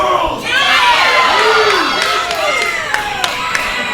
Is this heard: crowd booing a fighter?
yes